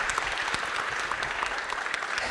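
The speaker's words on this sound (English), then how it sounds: "Marta, big hand of applause" Audience applause after a talk on loudness in music production, steady dense clapping from a crowd filling the whole stretch, close and fairly loud with no gaps.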